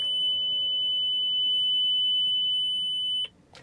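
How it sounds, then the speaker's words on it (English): A car with a single-clutch automated manual transmission, parked in neutral with the manual brake pulled and shut off, sounds a loud, steady high-pitched warning beep held for about three seconds before it cuts off abruptly. "So you heard that very loud beep."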